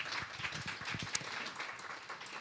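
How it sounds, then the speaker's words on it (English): Audience applause for panelists coming onstage at a women-in-tech mentorship event, a dense, steady patter of many hands clapping at moderate level with faint voices mixed in. "Big round of applause for our panelists."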